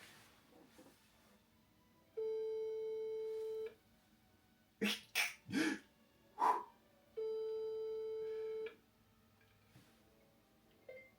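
A telephone ringback tone sounds while a call to a spa is placed, two long steady beeps separated by a pause, with a few short sharp bursts of sound in between.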